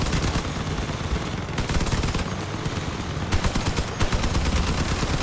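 Gunfire in the vehicle combat game Crossout: dense, continuous automatic fire with rapid rattling bursts throughout, loud and busy with heavy low rumble and no voices.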